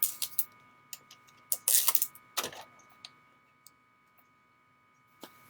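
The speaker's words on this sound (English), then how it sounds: "Once you plug the printer in, just power it up." An Epson 7720 printer powers up and initializes, making a run of sharp mechanical clicks and ticks with a brief cluster of louder clattering, then sparse clicks over a faint steady hum.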